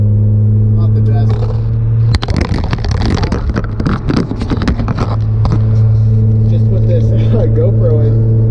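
A 1987 Chevrolet S10 pickup with a 2.8 liter engine drives along, its loud, steady engine drone rumbling throughout with bursts of road and wind noise in the middle.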